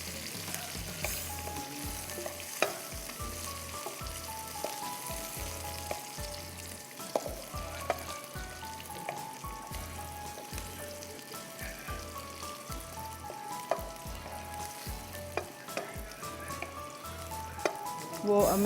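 Tomato puree cooks with sauces in a pan, giving a steady sizzle and frying crackle with stirring scrapes throughout.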